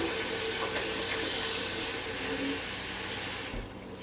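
Running tap water pours steadily into a pot with a broad, splashing rush that continues for several seconds before easing off near the end.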